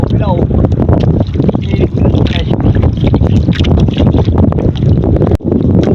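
Steady wind buffeting and splashing water around a small boat, with rhythmic paddle strokes churning the water and people talking over the noise.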